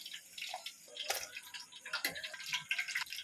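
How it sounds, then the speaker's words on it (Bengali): Fried pakoras are lifted out of hot oil and drained, giving soft drips, light sizzling and a few clinks from a spoon, all quiet and close. "এগুলো ফ্রাই হয়ে গেছে, আমি তুলে নিচ্ছি ছেঁকে ছেঁকে তেল থেকে।"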